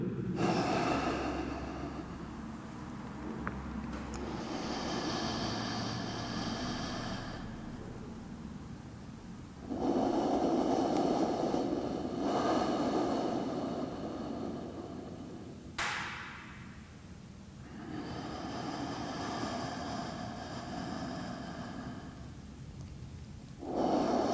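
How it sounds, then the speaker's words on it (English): Slow, deep yogic belly breaths fill the space, with long airy inhalations and exhalations repeating in a steady cycle, close and unaccompanied by speech. "Exhalation, fully exhalation from the belly."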